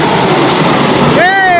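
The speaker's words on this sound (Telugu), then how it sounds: "Vande Bharat express saffron colour." A saffron Vande Bharat Express train rushes past a station with a loud, close roar, and a rising whistle-like tone sweeps in near the end.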